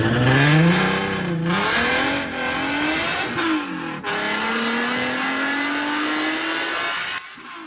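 Nissan 310Z sports car launching hard with wheelspin: a loud, close engine revving up and down with tire squeal, then a long, steady rising drone before cutting off abruptly.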